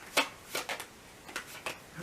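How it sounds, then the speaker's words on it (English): Tarot cards are shuffled in short, crisp bursts, with about five quick riffles spaced across a quiet moment, close and fairly soft, and no talk. "let me shuffle this a little bit more thoroughly"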